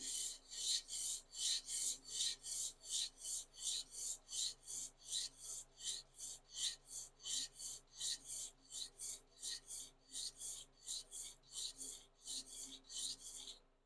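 A thin Craftsman plane iron being freehand sharpened on a stone, giving a steady run of about thirty rhythmic rasping strokes, close and fairly loud, with no talk.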